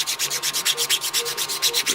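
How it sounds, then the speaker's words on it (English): Sandpaper rubbing over small plastic model kit pieces in quick, even back-and-forth strokes, about a dozen scratchy passes close up with no voices. "we're going to clean all these pieces up with the sandpaper"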